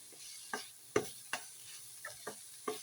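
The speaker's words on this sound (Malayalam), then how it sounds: "നല്ലോണം പച്ചമണം മാറുന്നിടം വരെ നല്ലോണം മിക്സ് ചെയ്തെടുക്കുക." A mixture is stirred in a pan with a spatula, giving a series of sharp, irregular scraping knocks over a faint, steady frying sizzle, close and fairly quiet.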